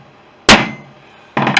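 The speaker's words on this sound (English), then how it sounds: "I hit this with a hammer just to flatten it out a little bit" A hammer strikes a metal part to flatten it on a Fisher Youngster, making two sharp, loud, ringing blows about a second apart, the second followed by a quick rattling rebound.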